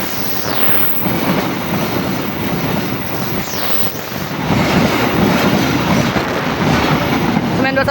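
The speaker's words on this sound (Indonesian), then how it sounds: "Kereta api Serayu" The Serayu passenger train, hauled by a CC 203 locomotive, rolls past close by with a loud, continuous rumble and clatter of wheels on rails and wind buffeting the microphone.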